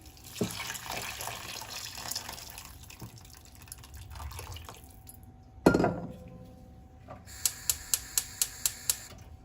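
Boiling water poured into a pot of Uzbek-style chicken pilaf, a broad splashing gush midway through, followed by a quick run of sharp clinks from pot or utensils near the end, with steady kitchen ambience around it.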